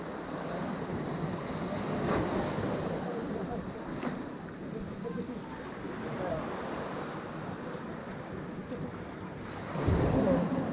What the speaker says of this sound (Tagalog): Ito yung mga alon dito